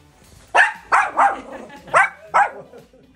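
A dog barks five times in an uneven rhythm, sharp and close, each bark loud and short with brief pauses between, and no talk over it.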